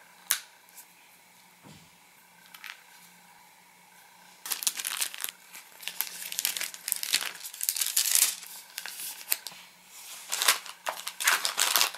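Plastic baggie holding a DNA test kit sample being handled and sealed, with a few sparse clicks and rustles first, then a burst of close, loud crinkling and crumpling.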